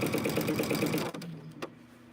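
A sewing machine stitching a quilt seam: a fast rhythmic close mechanical chatter for about a second, then it stops, leaving a faint hum and a small click.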